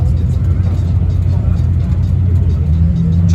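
A Koenigsegg Regera supercar backing off a trailer at a supercar festival, a steady low engine rumble close by and continuous, with crowd noise and talk around it.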